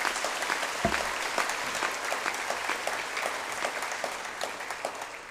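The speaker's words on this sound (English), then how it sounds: "Give them another round of applause, please." Sustained applause from an audience at a school academic awards ceremony for performers, a dense steady wash of many hands clapping at a fairly close, even level with no talk over it.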